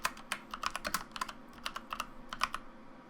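Typing on a computer keyboard while working in CAD software, a rapid run of crisp, close key clicks in uneven bursts with brief pauses, quiet and without talk.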